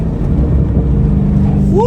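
A V8-powered muscle car engine roars loudly and close with a constant growling rumble, pitch climbing sharply near the end as it revs, while a voice talks over it.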